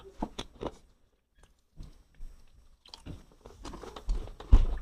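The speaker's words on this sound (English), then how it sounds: "Their snacks are really noisy, so you know they're crunchy." Crunchy Malaysian snacks are bitten and chewed close to the microphone, with irregular crisp crunches coming in clusters separated by brief pauses.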